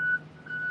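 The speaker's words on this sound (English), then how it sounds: "truck's backing up" Two steady electronic beeps from a reversing truck, separated by a short gap, over a low engine rumble.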